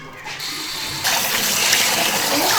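Tap water gushing over pork intestines being rinsed in a sink, a loud steady splashing rush that grows fuller after the first second and continues without pause.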